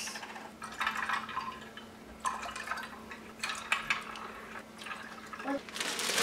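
Cranberry juice is poured into a glass while making a holiday drink with ginger beer, giving several short bursts of splashing liquid with soft gaps between them, close and fairly quiet.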